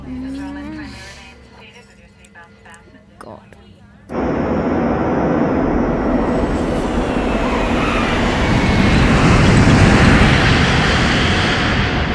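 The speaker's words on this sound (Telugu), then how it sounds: "మన ఫ్లైట్ని గోవాలో ఎమర్జెన్సీ ల్యాండింగ్ చేస్తున్నాం" A loud, steady roar of an airplane in flight sets in abruptly after a few seconds of quieter indoor sound with brief voices, then swells slightly.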